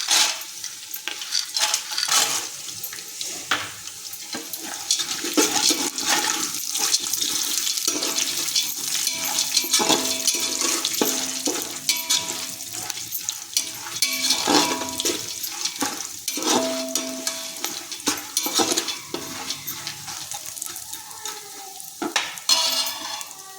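Peanuts tossed into a pan with roasted garlic, sizzling and frying while a spoon scrapes and stirs, irregular clinks and rustles over a steady hiss, no talk.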